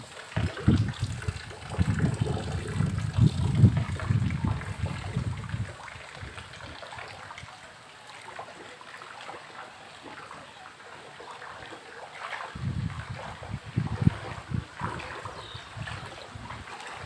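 Rainwater floods a rooftop area during heavy rain, a steady watery rush and gush with bursts of splashing near the start and again toward the end, quieter in between.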